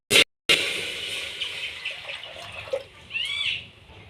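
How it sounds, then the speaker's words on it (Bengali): Water poured into a pan of fried mung dal, a brief splashing hiss after a sharp burst, then sizzling and bubbling settling down close by with no talk. "ডালটা ভাজা হয়ে গেছে, এবার আমি জল ঢেলে দেবো।"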